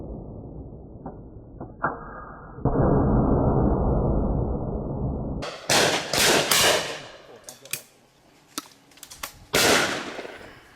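Shotgun shots fired on a simulated game day shoot with wildfowlers in Lincolnshire: a few sharp, loud bangs in quick succession, preceded by a long noisy stretch of wind or movement.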